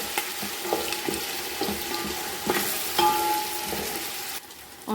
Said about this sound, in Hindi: अब मैं इसके अंदर 2 टेबलस्पून अदरक और लहसुन की पेस्ट शामिल कर रही हूँ और इसको भी अच्छी तरह इसके अंदर भून लेंगे